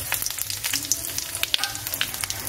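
Dry red chilli, a small bay leaf and fennel seeds fry in hot oil for a Bengali winter cauliflower and katla fish dish, giving a steady close sizzle with small crackling pops and no talk.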